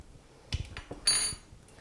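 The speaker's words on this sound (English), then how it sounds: "we just stir that to dissolve it a little bit" A spoon stirs white sugar and salt into a German-style salad dressing in a bowl, making a few light clinks and scrapes in short, close bursts.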